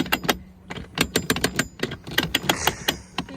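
A manual windlass on a sailboat gives a rapid, steady series of sharp ratcheting clicks while being cranked by hand, close and clear with no talk.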